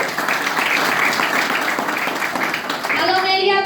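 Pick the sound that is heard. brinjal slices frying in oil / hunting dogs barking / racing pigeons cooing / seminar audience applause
seminar audience applause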